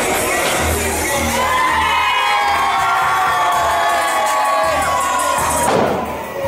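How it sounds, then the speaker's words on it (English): A packed crowd at an independent wrestling show in the Colonial Theater roars and cheers steadily, with children shouting and whoops rising through a loud, continuous wash of noise that swells briefly near the end. "You see a packed crowd at the Colonial Theater."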